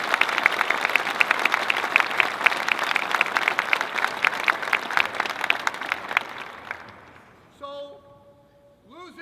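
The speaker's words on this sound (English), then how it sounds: "Give yourselves a hand." A large arena crowd of thousands applauds at a wrestling national championship celebration, dense rapid clapping sustained for several seconds before fading out, with a few brief voice-like tones at the end.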